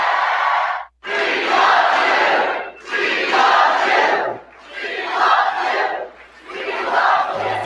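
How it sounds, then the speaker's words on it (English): A large CPAC crowd roars in a series of loud cheering and shouting bursts, about five swells separated by short gaps, heard from a played-back recording. "That was the response of the crowd after he said, we love our founding fathers."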